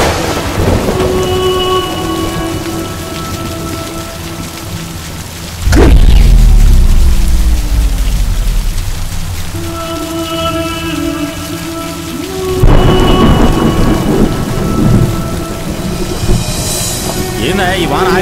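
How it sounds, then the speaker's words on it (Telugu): Heavy rain pours steadily through a storm, with loud thunder crashes near the six- and thirteen-second marks, all under a layer of music. "ఈ వాన ఆగేటట్లేదు. తుఫాన్ అని చెప్పారు కదా."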